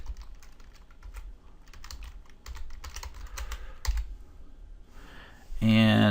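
Typing on a computer keyboard, a quick close run of light key clicks going for several seconds before a voice takes over at the end.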